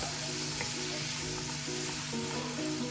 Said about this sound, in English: So I'm going to leave it for it to fry for a bit.